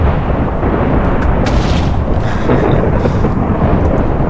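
Ender crystals explode under fire in a modded Minecraft world, heard as loud continuous rumbling booms and crackling blasts that roll over one another with no pause.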